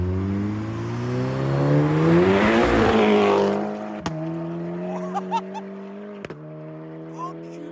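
A 410 hp Volkswagen Scirocco R engine revs hard and climbs in pitch, then settles to a rumbling idle punctuated by sharp exhaust pops and crackles, heard from inside the car with people talking.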